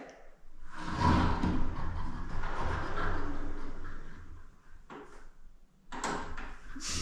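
A heavy bedroom door swings open and shut with a long soft whoosh and rub, then two sharper knocks as it closes, fairly close in a quiet room.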